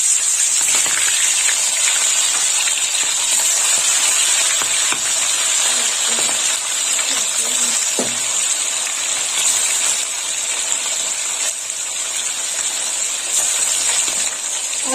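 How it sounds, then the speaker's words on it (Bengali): Small mourala fish fry in hot oil in a kitchen, a loud, continuous sizzling hiss with a few sharper crackles and a faint clatter, running steadily with no speech over it. "তেল গরম হয়ে গেছে, এবার আমি মাছগুলো ভেজে নেবো।"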